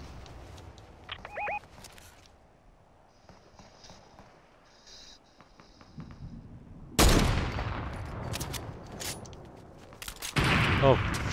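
Gunfire aimed at the player in Fortnite: scattered faint shots early on, then sharp close bursts of rapid fire break out in the second half, with brief in-game sounds between.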